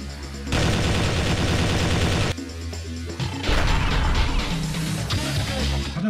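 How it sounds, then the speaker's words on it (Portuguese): Gunfire from a zombie-shooting video game, with pistols, machine guns, carbines and grenades, comes as dense, loud bursts of rapid shots mixed with crashing impacts, a short pause midway, then more layered firing over a busy game soundtrack. "o jogo também tem muitas armas que são usadas em uma determinada fase, como pistolas, metralhadoras, carabinas, granadas e até uma bazuca"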